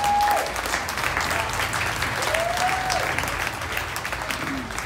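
A crowd at a live Elvis tribute show claps steadily and fairly loudly for the organisers, a dense ongoing applause with a faint sustained tone drifting through it.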